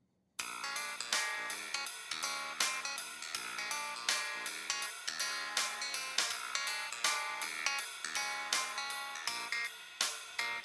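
Thin, tinny music with the bass frequencies cut by an EQ filter, a steady rhythmic pattern of bright plucked notes and beats with little low end, no voice.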